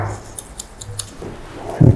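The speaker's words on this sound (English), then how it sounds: "Just using the scissors just to get that little skin line away there." Barber's scissors snip hair in short crisp metallic cuts at a barbershop, several quick snips spaced across a moment and then a louder close snip at the end, with no voices.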